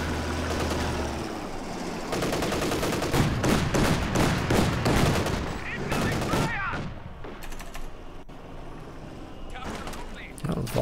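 Battle gunfire in Company of Heroes 2, dense rattling machine-gun bursts mixed with sharper shots, loudest in the first half and then thinning into scattered reports, with someone talking over it.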